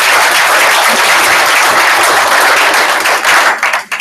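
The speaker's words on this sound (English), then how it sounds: "So give yourself a round of applause on that." Loud, dense applause from a crowd at a sales meeting, sustained clapping close by that tapers off over the last half second.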